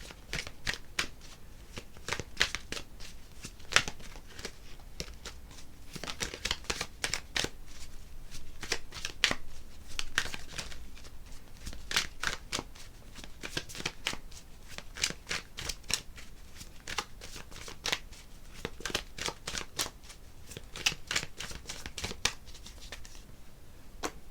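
Tarot cards being shuffled by hand close up, a long run of quick crisp riffling flutters in repeated bursts, fairly quiet and continuous with no talking.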